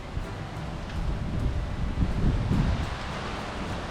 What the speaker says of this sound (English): That branch is moving in the wind.